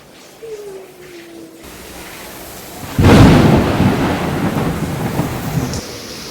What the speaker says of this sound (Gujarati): આજે ખૂબ જ વરસાદ આવી રહ્યો છે